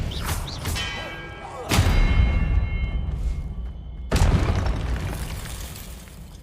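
Spell effect from the Hogwarts Legacy video game: two loud booming bursts with a ringing shimmer, each decaying slowly, set over a steady low game rumble.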